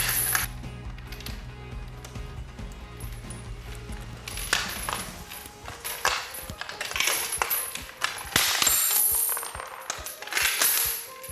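A toughened bicycle chain being cut through with a power tool, a loud sustained metallic grinding with rattling, clinking bursts that grows harsher after the first few seconds, close up with no talking.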